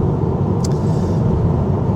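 Steady, loud road rumble fills the cabin of a 2023 Tesla Model 3 RWD on an Australian highway, a constant low drone with no clear rise in pitch and no talk.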